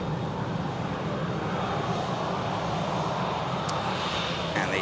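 Steady, loud roar of an EasyJet jet airliner taxiing out for a Paris departure at Manchester Airport, a continuous broadband engine rumble with no pauses.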